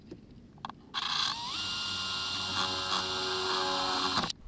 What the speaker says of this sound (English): before anything, we're going to drill a hole right there